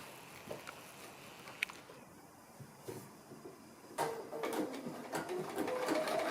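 A sewing machine stitches a zipper onto a fabric pouch made from a fat quarter. It starts after a few quiet seconds of light handling noise, then runs steadily and fairly loud to the end.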